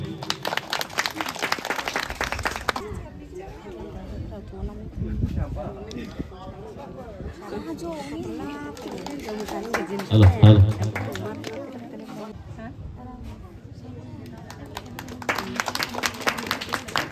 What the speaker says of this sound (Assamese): সকলোৱে হাত চাপৰিৰে